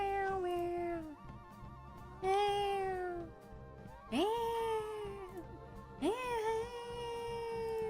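A cat meows four times, loud, long and drawn-out, spaced about two seconds apart, each cry rising then falling, close to the microphone.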